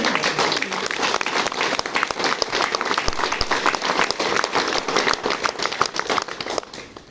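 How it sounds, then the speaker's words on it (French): Applause from an assembly audience after an election result, dense continuous clapping across the whole stretch, loud and close with no voices over it. "je voudrais qu'on applaudisse Claude, l'ancien député de cette assemblée"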